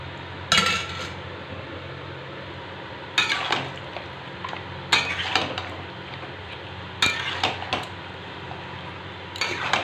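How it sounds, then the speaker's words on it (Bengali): Mutton being stirred and braised in a pan as boiled stock is added bit by bit: bursts of metal spoon scraping and clanking against the pan every couple of seconds over a soft background sizzle, close by and without talk. "অল্প অল্প করে মটন সেদ্ধর জলটা দিচ্ছি আর কষাচ্ছি"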